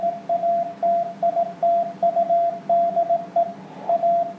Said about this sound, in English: There's my ham radio transceiver. You can hear the Morse code coming in